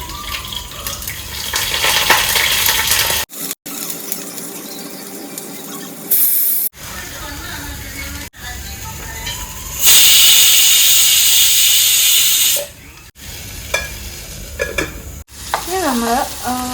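Vegetables for Kerala thoran sizzle and hiss loudly in a hot pan, with bursts of steamy spraying and stirring sounds across several abruptly cut segments.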